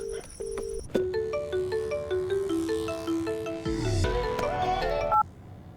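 A mobile phone ringtone plays a bright electronic melody of stepped tones, loud and clear from start to finish, opening with a few short beeps and ending abruptly.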